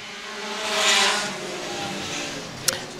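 Pure stock race cars in a heat race at Star Speedway, their engines roaring louder as the pack sweeps past and then easing off, with one sharp knock near the end.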